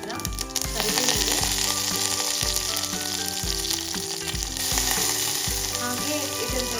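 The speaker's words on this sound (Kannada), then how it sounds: "ಒಂಚೂರು ಸಾಸಿವೆ ಸಿಡಿದ ನಂತರ ಕರಿಬೇವು" Mustard seeds and curry leaves crackle and sizzle loudly in hot oil, a steady dense spatter over a rhythmic music bed, with no talking.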